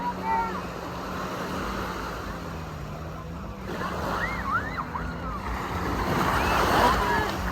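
Ocean waves at Medano Beach in Cabo San Lucas, a continuous wash of surf with wind rumble on the microphone, distant engine hum and voices and shouts nearby.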